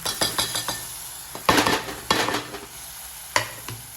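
Spices stirred into soft cooked tomatoes in a pan for a fish curry: a few clattering spoon strokes against the pan over a light sizzle, close, with pauses between bursts and no talk.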